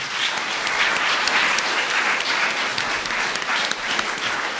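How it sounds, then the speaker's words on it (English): Seminar audience at the 2013 Pulitzer Prize question-and-answer event claps in a steady, full round of applause, close and continuous, with little speech. "so give them a nice round of applause"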